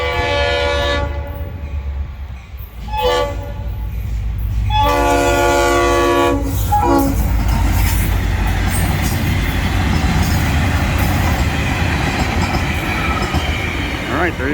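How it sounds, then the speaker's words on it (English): A Florida East Coast Railway Christmas train passes the Canal Road crossing, sounding several long horn blasts over a loud, continuous rumble of wheels and rail noise. "I think this might be the Christmas train returning."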